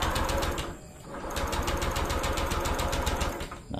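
Motorcycle being cranked without starting: a fast, even mechanical chatter runs close and loud, dips briefly near the first second, then resumes and cuts off at the end, with no talk.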